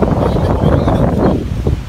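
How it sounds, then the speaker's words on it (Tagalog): Strong wind on a high mountain in the Philippines roars and buffets the microphone continuously, a loud, rough rush of air with low rumbling gusts throughout. "Lakas ang hangin."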